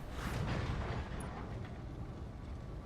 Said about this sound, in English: So we got ammo explosion, side torso explosion hit, knockdown, which is also gonna injure the pilot.